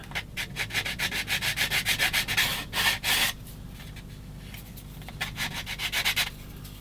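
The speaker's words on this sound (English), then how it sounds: "Definitely needs a bit of sanding." Steady rhythmic sanding strokes rubbing back and forth on a small hard plastic part of a 1/16 scale Takom M10 IIC Achilles tank destroyer model kit, close up, with a brief pause before the scraping resumes.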